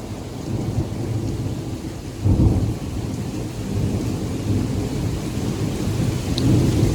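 Heavy rain pours steadily through a severe hometown thunderstorm under a tornado watch, with a deep rumble of thunder swelling about two seconds in and low rolling thunder continuing beneath the rain.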